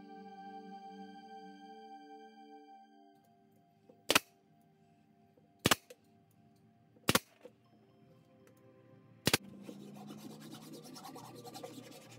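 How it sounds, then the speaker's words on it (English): A hand file takes sharp edges and burrs off the plywood corners of a rustic scrap-wood storage box. Four sharp knocks sound first, then a dense, close rasping of strokes builds near the end, with no talk. "I took to taking the sharp edges or any burrs off the corners with a file"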